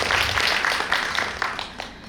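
An audience at a panel discussion claps for a panelist in a steady round of applause that starts full and thins gradually toward the end.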